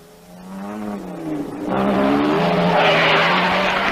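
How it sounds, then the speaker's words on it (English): A 1958 Triumph rally car spinning out during the Coupe des Alpes, its engine rising then giving way to a loud, sustained tyre screech and skid that swells over the last two seconds. "And Annie Swabbo spun her triumph"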